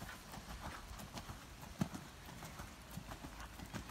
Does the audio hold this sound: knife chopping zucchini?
no